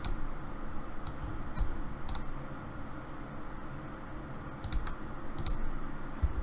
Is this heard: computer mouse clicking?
yes